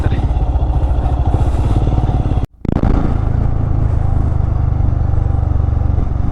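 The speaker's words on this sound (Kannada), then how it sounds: "R15 ಆಫ್ ರೋಡ್ ಹತ್ಬಿಡ್ತು, ಆರಾಮಾಗಿ ಹತ್ಬಿಡ್ತು" A Yamaha R15 motorcycle riding off-road on a forest track toward Benki Falls near Bangalore, its engine revving loud and close with rattling clatter from the rough ground, briefly cutting out before picking up again.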